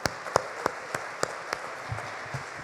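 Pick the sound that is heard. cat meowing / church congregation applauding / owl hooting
church congregation applauding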